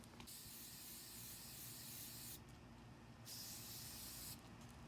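Zinsser BIN shellac primer hisses from an aerosol spray can onto bleed-through spots on a nightstand during furniture refinishing, in close continuous bursts of spray with two brief pauses between passes.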